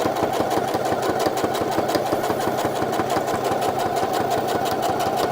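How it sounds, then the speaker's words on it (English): A sewing machine runs a line of stitching on drawstring shorts, a fast, even, rattling whir that carries on loud and close without a break. "Just do a small line of stitching here and here just to keep it all in place"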